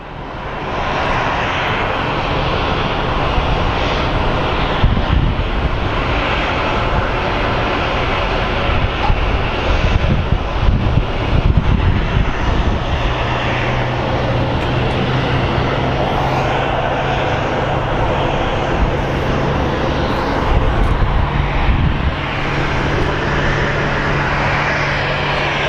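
An F-16 fighter jet flies past an airport with a steady, loud broadband engine roar lasting throughout, swelling slightly in the middle with a low droning tone emerging later.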